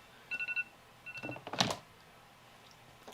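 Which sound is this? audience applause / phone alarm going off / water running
phone alarm going off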